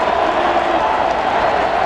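A college football stadium crowd roars steadily at Tennessee's home game against Florida, a dense continuous wash of cheering with no breaks.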